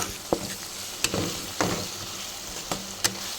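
Raw mango pieces fry in a pan, sizzling softly and steadily while a spoon stirs them, scraping in several sharp, short strokes against the pan.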